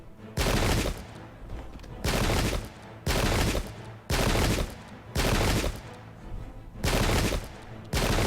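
Musket volleys from Pike and Shot, English Civil War setting: seven loud, crackling bursts of massed fire arriving at a steady rhythm roughly once a second, each followed by a brief lull.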